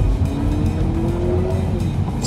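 A Honda Civic RS e:HEV accelerating, its engine note a steady close drone with a rising tonal line, loud and continuous throughout.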